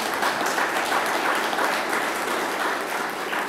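A crowd at a Broadway Housing Communities Sugar Hill development event applauds steadily for New York Mayor de Blasio, a full, continuous round of clapping with no pauses.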